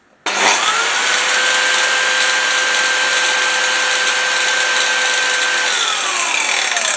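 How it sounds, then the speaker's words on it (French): An electric saw powered by an ALLPOWERS R1500 portable power station starts abruptly and runs at a loud, steady whine for several seconds, then begins to wind down at the end. "si là, je branche la scie, est-ce que je peux l'utiliser?"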